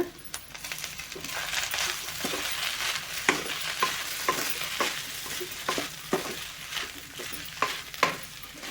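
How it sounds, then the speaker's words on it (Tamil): Idli upma with coriander leaves is stirred in a hot pan over a steady sizzle, a metal spoon clinking against the pan in regular taps, close and clear, with no speech. "மல்லித்தலை போட்டுக்கலாம். போட்டு நல்லா கலந்து விட்டுக்கோங்க."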